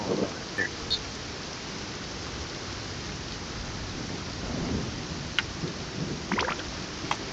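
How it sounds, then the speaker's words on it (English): A rainstorm in Genshin Impact brings steady rain hiss with low rolling thunder and a few sharp game chimes and clicks over it, with no speech. "Oh great, there's a storm."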